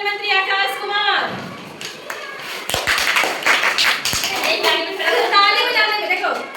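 A class of schoolchildren clapping hands during a school assembly, a burst of sharp claps in the middle between stretches of an adult voice speaking nearby.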